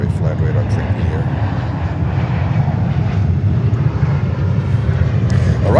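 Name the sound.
airplane flying overhead at JFK Airport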